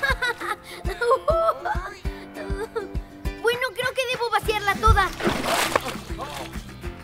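Water sloshes and splashes as a bucket is tipped outdoors in a winter park, with several uneven splashes mixed under lively talk and laughter.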